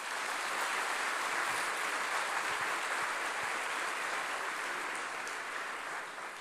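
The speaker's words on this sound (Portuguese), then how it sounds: "Você pode aplaudir ao Senhor?" A church congregation breaks into sustained applause during a sermon, a dense wash of clapping from many hands that holds steady and tapers slightly at the end.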